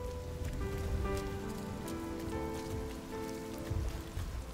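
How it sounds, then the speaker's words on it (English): Rain effect in the video game Rime: a steady patter of rain on surfaces, dense and even, with soft game music tones sustained underneath. "I love the rain effect in this game."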